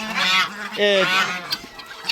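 Geese honking up close, a couple of loud nasal calls in quick succession followed by softer chatter and small rustles, with no talking.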